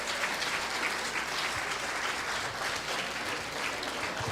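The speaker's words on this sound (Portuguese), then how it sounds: "vamos aplaudir o Senhor por esse caminho." A congregation in church applauds steadily, a dense, even wash of clapping that keeps going at a constant level throughout.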